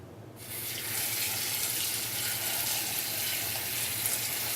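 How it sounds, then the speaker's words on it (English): Cold tap water runs steadily into a bowl in a home kitchen while making potato leek soup, a continuous close, even rush of splashing water with no talk. "Fill the bowl with some cold water"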